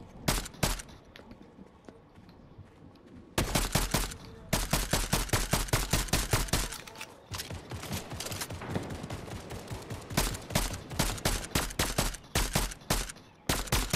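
Rapid gunfire from an assault rifle and a pump shotgun in Fortnite, dense bursts of sharp cracks in quick rhythm after a quieter opening stretch, loud and close, continuing in volleys to the end.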